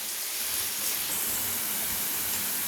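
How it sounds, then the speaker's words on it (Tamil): Onions frying in a pan for a Tamil chicken fry, producing a steady, even hiss of sizzling oil up close with no talking. "வெங்காயம் நல்லா சவக்க வறுத்துக்கலாம்."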